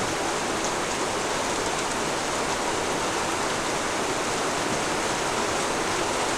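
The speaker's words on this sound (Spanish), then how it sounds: "es que ya está lloviendo fuerte" Heavy rain pours steadily, a dense, loud, unbroken hiss with no pauses or changes throughout.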